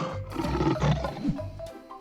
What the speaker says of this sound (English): L is for lion.